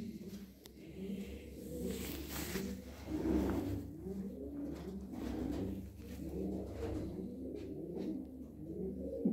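Several pigeons at a coop coo steadily in overlapping, soft rolling calls close by, with a low constant hum underneath.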